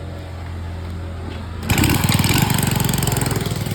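A Honda Wave 100 motorcycle under repair for a wiring fault starts up after a low steady hum, then runs at a fast, even, putting idle, close and loud, with no voices.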